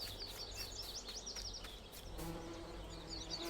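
Bees buzz around a beehive on a farm in Farming Simulator 19, a steady insect drone with wavering buzzes and faint chirping bird calls in the game background, without speech.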